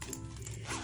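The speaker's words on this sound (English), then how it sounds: "Zipper closure." A quick zipper pulled along the closure of a strawberry plush bag, one short close rasp.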